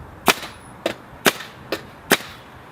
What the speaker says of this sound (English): So now I'll pull the trigger and see if I can bounce fire it.